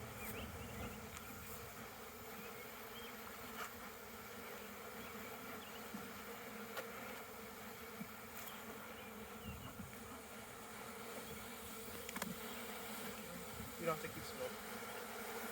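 Bees hum steadily in an opened hive during a hive split, a soft continuous buzz close by, with a person speaking briefly over it.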